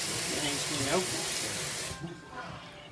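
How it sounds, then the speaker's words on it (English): Tap water running as a hand is rinsed at a kitchen sink, a steady close splashing hiss that cuts off partway through, with a voice talking over it. "I'm going to rinse off my hand."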